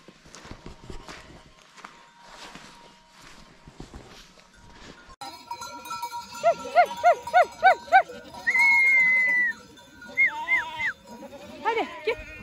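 A flock of sheep in a Turkish village bleats in a quick run of repeated, loud, nearby cries, then one long sustained bleat and a few more calls, following quieter shuffling and hoof sounds.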